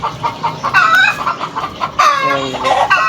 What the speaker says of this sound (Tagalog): Yung mga maraming manok nandun sa dulo.